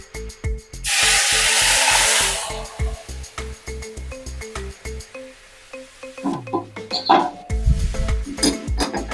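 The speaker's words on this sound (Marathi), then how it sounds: "आता यामध्ये आपण गरम केलेले जे दूध आहे ते घालून घेऊयात" Hot milk poured into semolina (rava) roasted golden in a pan for mango sheera, bursting into a loud hissing sizzle that lasts a couple of seconds and then fades, over a steady rhythmic music beat with clatter afterward.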